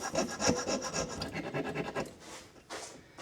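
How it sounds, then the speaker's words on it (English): A Duke DP trigger being filed to remove burrs, heard as steady close rasping strokes in a quick rhythm, fading to lighter scrapes near the end. "File it down, get all the burrs off there."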